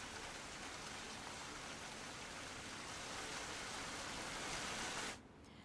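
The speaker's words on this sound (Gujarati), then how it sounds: "છોટાઉદેપુર જિલ્લામાં ધોધમાર વરસાદ." Heavy monsoon downpour in Chhota Udepur district, Gujarat, a steady dense hiss of rain that holds unbroken and fairly loud for about five seconds before cutting off abruptly.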